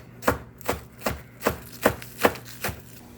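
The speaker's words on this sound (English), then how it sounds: "Chop up our green onions." A kitchen knife chops green onions on a board in seven steady, evenly spaced strikes, each a crisp close thunk, with no talking.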